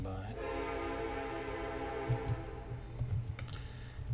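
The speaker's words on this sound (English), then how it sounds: "And there's the train going by." A train passing outside at night sounds a distant, sustained horn tone, faint behind nearby computer keyboard clicks indoors.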